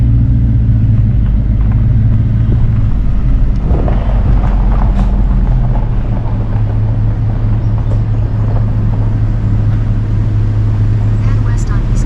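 A car drives across a covered bridge, its tires and engine producing a loud, continuous low rumble with wind buffeting the microphone throughout.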